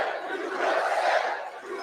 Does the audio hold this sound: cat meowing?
no